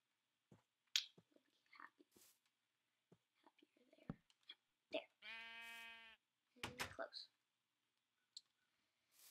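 A synthetic Minecraft sheep bleat rings out clearly once amid soft whispery speech and scattered clicks.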